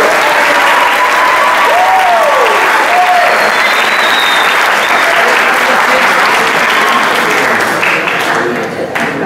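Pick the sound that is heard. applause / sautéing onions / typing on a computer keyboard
applause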